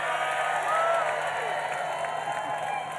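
A crowd cheers and applauds after the final stage of the Tour of Britain cycling race, a steady wash of clapping and voices at moderate distance, continuous throughout.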